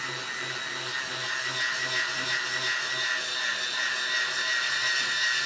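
A steady, continuous mechanical whir with a grinding edge from a Hyundai cordless drill boring into material, running throughout at close range without pauses.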